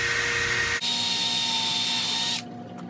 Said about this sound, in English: So now I've got the 2 holes drilled.